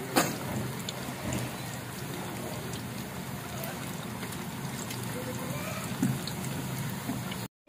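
Pakora batter frying in hot oil in a karahi, a dense continuous sizzle and crackle with occasional sharper pops, steady and close throughout.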